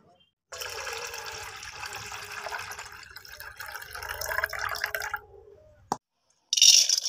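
Lentil powder is rinsed in water in a kitchen, a few seconds of close splashing and swishing followed by a brief clink and a short trickle of water.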